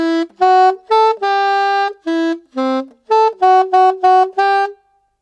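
Saxophone plays a theme tune phrase in about a dozen clear, detached notes, some short and some held, rising and falling in a bouncy rhythm. Close, loud and alone, with brief silences between notes.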